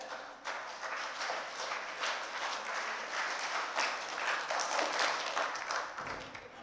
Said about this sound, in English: Let's do the clap wave.